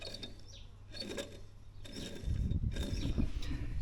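A worn-out car alternator, removed from the vehicle, is spun by hand and gives rough, grinding whirs in repeated bursts. It is fairly quiet and close, with a low rumble joining in partway through.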